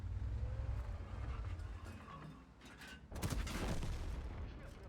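Muffled gunfire in the tank game World of Tanks booms and crackles faintly in the distance, with a sharper burst of shots about three seconds in.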